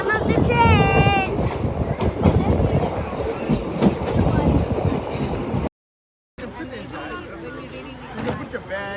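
Train ride with the steady rumble and rattle of the rail carriage rolling along, loud and continuous throughout, with people talking over it and a brief dropout near the end.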